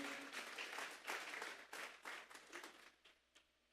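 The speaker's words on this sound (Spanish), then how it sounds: "Vamos a darle una ofrenda de palmas a Dios en esta hora." Congregation in a Spanish-language church giving God an offering of applause, loud rapid clapping from many hands that gradually thins and fades toward the end.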